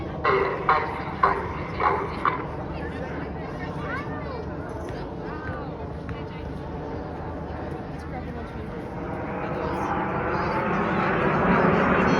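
Red Arrows jets fly a Coronation Vertical Break display manoeuvre over Bournemouth, trailing red and blue smoke; a broad jet roar swells steadily louder toward the end beneath continuous commentary and crowd noise.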